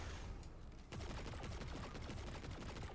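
A machine gun in Destiny 2 fires in a rapid, sustained stream of shots, starting after a short lull and continuing loud and steady through a lost sector fight.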